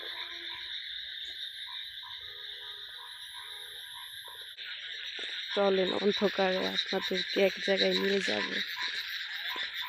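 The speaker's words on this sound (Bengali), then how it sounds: "শুধু ঝিঞ্জি পোকার শব্দ আর ব্যাঙের ডাক" On a quiet moonlit night, crickets keep up a steady high chirping while frogs croak in loud, uneven bursts close by. Someone speaks over the chorus.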